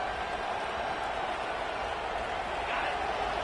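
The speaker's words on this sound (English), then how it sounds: "listen to this crowd roar" A football stadium crowd roars, a steady, dense wash of noise from many voices at a distance, continuous and unbroken.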